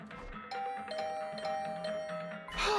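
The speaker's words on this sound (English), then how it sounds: "I was brought back to the land of the living by the unrelenting ringing of my doorbell." A doorbell rings insistently in the video game Hundred Line Last Defense Academy, a sustained chime tone held over a busy musical background, fairly close and clear.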